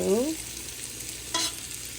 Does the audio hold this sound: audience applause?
no